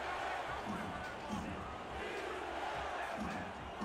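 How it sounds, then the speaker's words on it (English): A football video game's stadium crowd roars steadily during a Denver at San Francisco matchup, a dense, continuous wash of cheering that fills the whole stretch with faint indistinct voices beneath. "The crowd here in San Francisco is on their feet."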